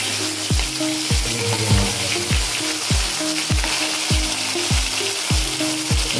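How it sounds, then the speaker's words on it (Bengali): Crabs sizzling in hot mustard oil in a wok, a constant loud crackle broken by regular scraping stirs about every half second, with no talking. "আর কাঁকড়াগুলো এখন আমি ভেজে নেব।"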